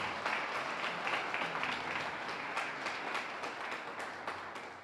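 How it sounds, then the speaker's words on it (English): An audience at a Tallahassee neighborhood awards ceremony applauds, a dense, even wash of many hands clapping, steady and fairly soft with no voices over it, gently fading toward the end. "So give yourselves a round of applause for helping to do that."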